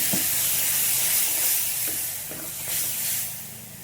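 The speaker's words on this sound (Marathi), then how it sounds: "थोड्यासारखं पाणी टाकू." Water poured into hot masala gravy for spiced eggplant (masala vangi) sizzles on the stove, a close, steady hiss with a few soft pops that eases slightly toward the end.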